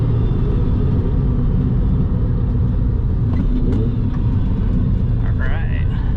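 A 2002 Porsche 996 Targa engine drones loudly and steadily from inside the car on a canyon road, a dense low rumble with brief higher whines near the end.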